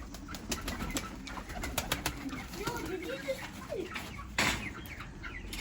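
Caged pigeons coo softly and repeatedly in an outdoor backyard pen next to chickens, with low rolling calls scattered through the ambience and faint background voices.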